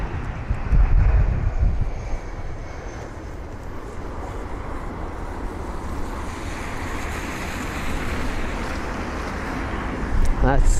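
An Edelweiss Air Airbus A340 airliner making an emergency landing at London Heathrow, heard as a steady, loud broadband engine roar with wind-like rushing that stays constant throughout and swells slightly near the end.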